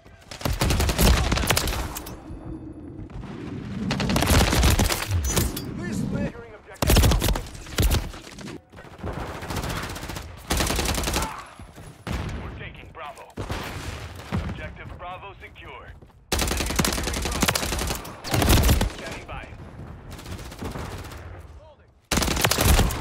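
Rapid shotgun blasts and gunfire in the Call of Duty MW3 beta, loud bursts repeating in clusters throughout, with talk and game sounds mixed in.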